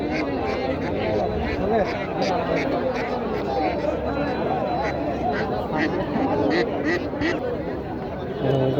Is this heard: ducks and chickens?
yes